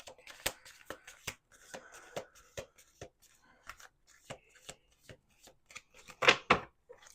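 Close, crisp clicks and flicks of a deck being shuffled, irregular taps with a louder flurry near the end, quiet and without speech.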